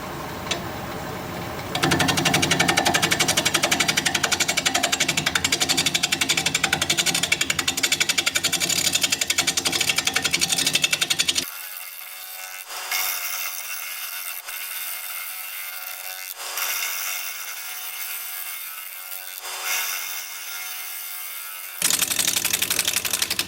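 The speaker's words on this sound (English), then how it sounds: "we're going to be turning at 700 RPM, 5/8 inch bowl gouge, mask and face shield on" A 5/8 inch bowl gouge cuts into a butternut bowl spinning at 700 RPM on a wood lathe, giving a steady, loud, close scraping hiss. It thins to a lighter rasp midway, then returns to full strength near the end.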